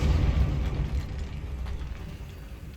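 Depulso spell blast in Hogwarts Legacy, a deep rumbling boom that fades over a few seconds, dense low energy and no speech.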